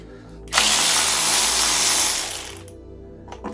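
A power tool whirs loudly as bolts are undone on a Reliant Regal engine, one sustained two-second run that winds down in a few ratcheting bursts, then quiet with a faint click.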